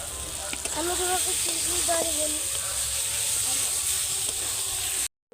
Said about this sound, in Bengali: ভেজে রাখা আলুগুলো দেওয়ার পর কিছু সময় আবার কষে নেব